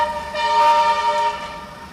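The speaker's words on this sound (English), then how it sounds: "That is an engineering unit testing the track of the current pride of Addis Ababa" A Chinese-built light rail tram on an engineering test run along the new Addis Ababa railway track gives a loud, sustained tonal horn blast, close and continuous, swelling slightly in the middle before easing off.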